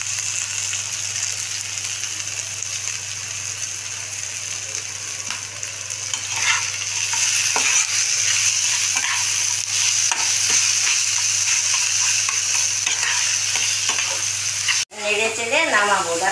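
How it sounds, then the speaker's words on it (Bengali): Taro flowers with shrimp stir-fry in a pan in a traditional Bengali dish, a steady close sizzle with scraping stirs throughout and a sudden clatter near the end. "দেখো কত সুন্দর ভাজা হচ্ছে।"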